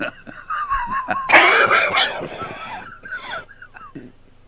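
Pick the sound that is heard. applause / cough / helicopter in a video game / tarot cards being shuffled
cough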